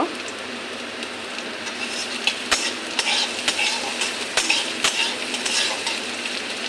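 Garlic and ginger frying in a pan, a dense close sizzle broken by sharp stirring clicks and taps throughout.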